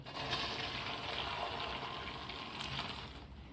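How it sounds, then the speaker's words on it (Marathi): Water from boiled green peas drains through a kitchen sieve with a steady, faint gushing pour that runs continuously and alone. "मग आता आपण ह्या चाळणीमध्ये गाळून घेऊ"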